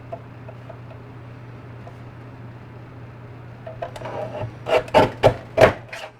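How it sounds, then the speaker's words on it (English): Card paper for Christmas cards being trimmed with a paper trimmer, a few sharp scraping, cutting strokes near the end after quiet handling and a low background hum. "Now I'm going to trim this side off just a little bit to make it a little more"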